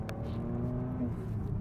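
A 272-horsepower BMW E92 330i accelerating over cobblestones, a steady engine drone heard from inside, moderately loud and continuous.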